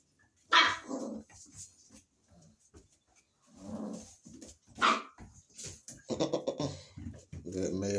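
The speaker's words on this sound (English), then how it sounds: "This puppy's playing." Pit bull terrier puppies at play give sharp, close barks and yips in scattered bursts, with someone talking over and between them.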